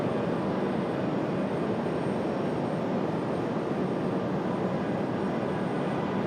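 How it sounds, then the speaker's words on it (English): Departing Republic Airways Embraer E175LR regional jet at Raleigh-Durham airport, a steady loud broadband engine roar holding constant throughout, heard from a distance. "Republic Airways 4417 off to JFK, the E175LR"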